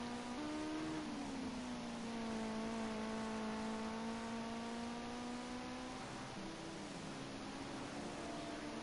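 Ginetta GT5 race car engines in a racing game at a Long Beach circuit, a sustained engine drone that holds a steady pitch with slight shifts as the car laps, moderately loud, with no talk.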